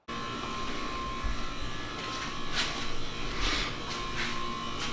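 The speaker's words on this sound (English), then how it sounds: "I think I'll just use my air compressor." An air compressor inflating car tires buzzes in a loud, steady motor drone close by, with brief hissy surges of air over the constant hum.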